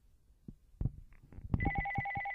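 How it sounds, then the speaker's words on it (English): A telephone rings with a sustained electronic tone after a few scattered knocks and thuds, fairly quiet and close, with no voices. "Will somebody please answer the phone?"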